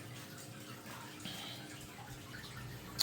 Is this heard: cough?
no